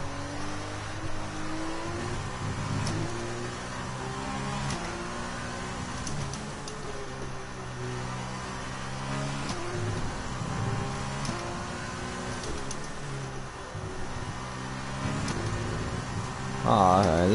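A Formula 1 car engine in F1 2020 screams through repeated upshifts and throttle rises, loud and steady from the cockpit, while someone talks intermittently over it; a sharp high whine flares at the end.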